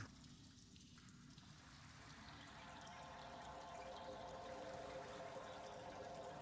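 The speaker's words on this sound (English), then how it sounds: "It just sounds like a toilet flush." A cistern draining like a toilet flush, a steady rushing pour of water that swells slightly and then runs on evenly, fairly faint and alone.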